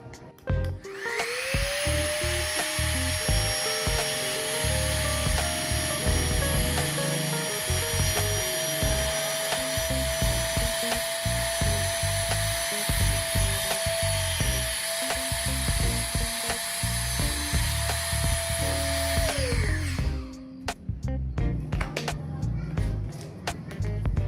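An electric vacuum pump whines steadily for about twenty seconds as it sucks air out of compression storage bags, a loud high motor drone that starts and stops abruptly, followed by crinkling plastic handling.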